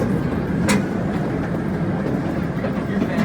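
Zoo miniature train ride with a continuous rumble and clickety-clack of wheels on track, loud and close, with a brief sharp squeak near the start.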